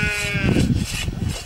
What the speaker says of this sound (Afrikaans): Die buurman se skape wy onder die boom op die appelkose.